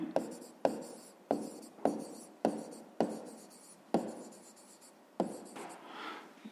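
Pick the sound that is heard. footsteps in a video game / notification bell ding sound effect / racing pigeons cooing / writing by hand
writing by hand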